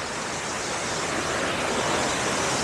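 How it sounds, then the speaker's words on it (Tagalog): Pabigan Falls in Pagudpud, a loud, dense, unbroken rush of falling water close by, steady throughout with no pauses or voices. "Pabigan Falls. Pagudpud."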